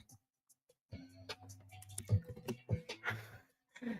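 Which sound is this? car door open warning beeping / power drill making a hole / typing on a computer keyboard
typing on a computer keyboard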